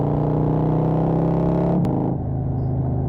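Motorcycle engines rumble before a ride on Mt. Lemmon, a loud, steady low idle that dips slightly partway through, close and continuous with no talk.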